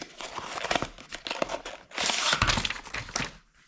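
Plastic packaging of a silicone grip phone case crinkles and tears up close in continuous rustling bursts, growing louder midway before tapering off.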